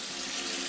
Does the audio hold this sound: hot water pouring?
yes